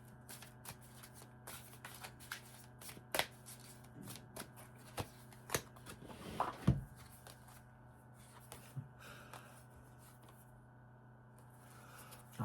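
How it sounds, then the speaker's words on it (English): Tarot cards are shuffled by hand for several seconds, producing soft, irregular riffling and sharp flicking snaps up close in a quiet room, with no talking. "let me give the cards a couple of shuffles here"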